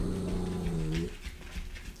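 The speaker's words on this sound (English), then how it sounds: "Can you hear them growling?" Several dogs growl low and steadily up close, a continuous rumbling snarl with a few whimpering yips mixed in, dying down midway into restless rustling.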